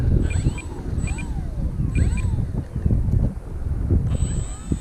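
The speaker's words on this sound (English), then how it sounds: "that wind is fierce" Fierce wind gusts at an outdoor model-plane flying field buffet the microphone with a heavy, rumbling roar, while a faint high whine from a small E-flite Maule RC plane comes and goes in the distance.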